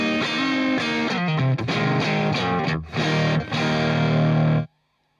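Distorted electric guitar played through a vintage Fender Super Reverb amp, loud driven chords and riffs with a brief dip near the middle, ringing steadily before cutting off abruptly at the end.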